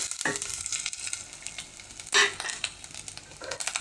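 Grated coconut stirred into a frying Kerala anchovy fish curry in a pan, a continuous close sizzle with scraping stirring strokes and one brief louder spatter.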